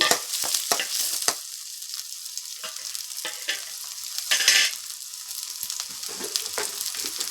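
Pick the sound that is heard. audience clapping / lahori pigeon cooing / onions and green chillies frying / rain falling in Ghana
onions and green chillies frying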